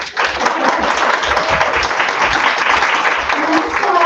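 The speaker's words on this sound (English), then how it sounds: "Let's give them a round of applause." An audience at an arts festival performance applauds in a dense, steady wash of clapping that fills the space without a break.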